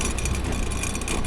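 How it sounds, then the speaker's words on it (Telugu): Loud rushing water beside a narrow mountain road, a dense, steady broadband roar filling the whole moment with no breaks, close and continuous, no talk. "ఇప్పుడు మాత్రం టూ మచ్ సౌండ్ వస్తున్నది వాటర్ది"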